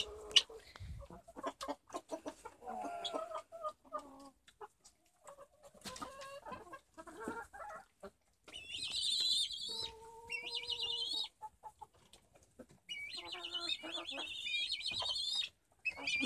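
Black hens in a coop during evening chores give soft close clucks and higher squawking calls, in scattered bursts separated by quiet gaps.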